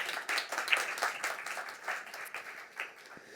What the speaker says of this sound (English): Let's give one more round of applause to Stefan, Rebecca, and Andrea